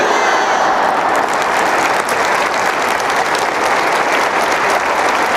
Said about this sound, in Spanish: En esos aplausos se estás entregando lo que traes en el corazón